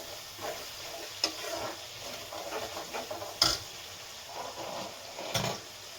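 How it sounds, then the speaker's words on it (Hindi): Masala roasting in a pan for kadhi gives a soft, steady sizzle with occasional louder stirring scrapes and clicks, close by and unaccompanied by talk. "इधर मेरा मसाला भुन रहा है"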